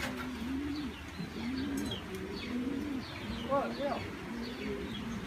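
Young racing pigeons returning to their home loft coo in soft, repeated rolling calls, with occasional chirps and light background noise; someone speaks briefly nearby.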